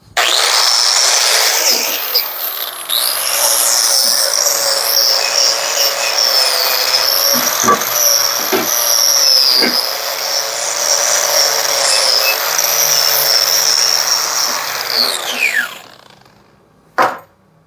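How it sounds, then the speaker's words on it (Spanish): A wire brush wheel on a power tool cleaning leaf spring steel gives a loud, steady high-pitched whir and grinding hiss with brief dips as pressure shifts, then spins down and stops. "Vamos a limpiar con grata."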